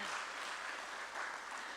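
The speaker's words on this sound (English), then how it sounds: "Don't you think we should clap to that" An audience at a stock exchange listing ceremony claps in a continuous, even wash of applause, heard faint and distant throughout.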